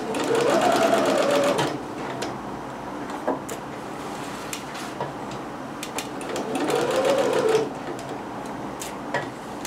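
A sewing machine stitches dress fabric for a McCall's M6701 dress pattern: two loud, steady whirring runs, one at the start and one later, with quieter mechanical clicks and handling noises between them.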